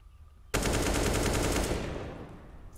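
AK rifle spray fire in Counter-Strike at a pro league match, shot through the edge of a wall: a loud, sudden burst of rapid automatic gunfire lasting over a second, then a fading echoing tail with no talk.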